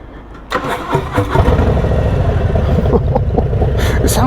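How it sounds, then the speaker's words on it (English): A Harley-Davidson Fat Bob motorcycle engine cranks and fires after a brief quiet moment, then settles into a loud, deep, lumpy idle with a steady throbbing pulse, heard close up with no talking. "It sounds like a bus starting up."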